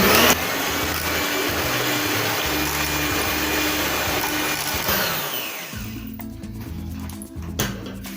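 A loud electric mixer whips sugar in a bowl, whirring continuously, its motor droning steadily, then changes pitch and fades lower near the end.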